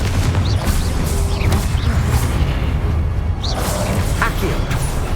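Confringo explosive spells go off in Hogwarts Legacy, a dense, loud rumble of blasts and crashing debris with whooshing bursts cutting through the continuous din.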